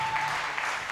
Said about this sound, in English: are you clapping like that here?